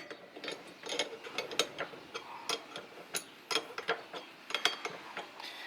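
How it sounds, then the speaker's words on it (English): Plate clutch springs on a TS1 six-plate clutch are compressed with the supplied tool and spanners, giving a string of close, irregular metallic clicks and ratcheting clanks with short gaps, no talking. "What we're doing is we're compressing the springs with the tool that's supplied."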